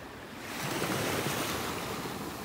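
Gentle waves lap on the shore at Delnor-Wiggins Pass State Park beach in Naples, Florida: a soft continuous wash of surf swells up and then holds steady, with light wind and no voices.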